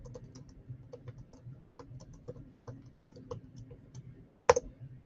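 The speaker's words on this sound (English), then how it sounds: "I'm going to type in the chat" Keys tapped on a computer keyboard in a steady run of quick, light clicks at close range, with a sharper, louder clack near the end.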